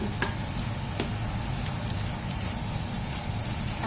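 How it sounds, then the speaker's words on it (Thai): Food stir-fried in a wok on a stove gives a steady, even sizzle and hiss with a few faint clinks, heard alone without talk. "ผัดไปเรื่อยๆนะจ๊ะ"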